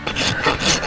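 Rough rasping strokes against a goat's hoof during trimming, a few quick close scraping passes in under a second.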